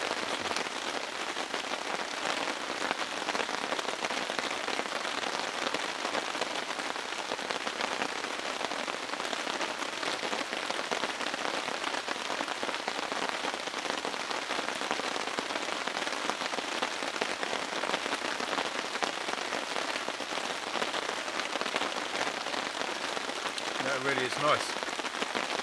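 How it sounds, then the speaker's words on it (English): Steady rain drums on a tarp shelter during an overnight camp, a dense continuous patter of drops throughout, loud and close, with a brief faint voice near the end. "I think the rain's finally arrived"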